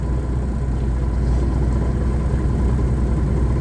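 A low-flow Cummins big cam diesel engine idles just after start-up, a loud, steady low rumble with an even rhythmic chug close by.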